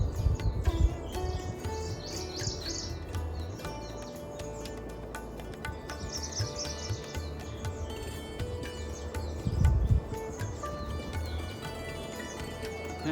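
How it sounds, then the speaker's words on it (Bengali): Birds chirp and call at moderate distance in a deodar forest on the trek toward Panchachuli in the Himalayas, with irregular bursts of song over low rustling and thudding sounds. "অসাধারণ পাখির যে ডাক, একবার শোনো"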